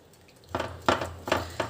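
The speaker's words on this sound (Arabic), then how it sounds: "هقلب بقى كده علشان السكر عندي يدوب" Sweet potatoes being stirred in a pan with melting sugar, giving four wet, scraping strokes in an uneven rhythm, close and moderately loud.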